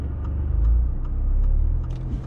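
Another car passes on the road while heard from inside an automatic car waiting at a junction on a driving test route; a steady, close engine and road rumble swells and fades gently, with no talk.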